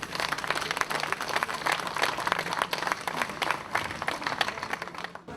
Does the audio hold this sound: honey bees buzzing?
no